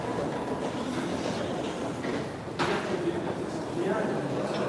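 A train at Charleroi station sends out a steady, loud rumbling rail roar with some clatter. Faint murmuring voices mix into the noise throughout.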